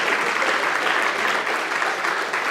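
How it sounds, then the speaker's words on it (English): Audience clapping fills the room in a dense, steady burst that holds even throughout, with no voices breaking through. "Yeah, you can clap, that's all right."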